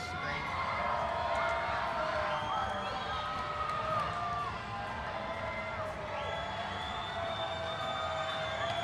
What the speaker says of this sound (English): All of this cheering that you're hearing